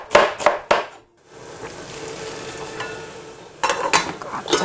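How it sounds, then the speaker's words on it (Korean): A kitchen knife strikes directly on a countertop with no cutting board, giving sharp, knocking hits in quick clusters at the start and again near the end, with a brief silence and a low rustling background in between. "도마둔 곳이 기억이 안 나니 그냥 조리대 위에서 칼질을 하고 마는 봉순 씨."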